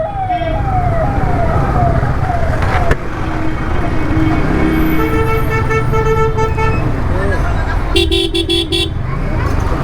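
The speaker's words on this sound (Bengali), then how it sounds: "ও ভাই অ্যাম্বুলেন্স, এই গেটে গাইস অ্যাম্বুলেন্স অনেক ফাঁসা ফেসে যায় এখানে" An ambulance siren wails in rising and falling sweeps through heavy traffic at a congested gate, with loud car horns honking in sustained bursts and people talking over the din.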